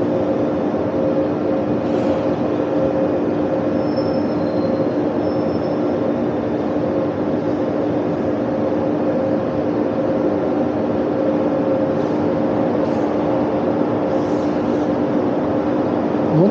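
Prague Metro train pulling away from a station, a steady loud hum and rumble of the moving train and rails lasting throughout with faint tonal whines, no talking.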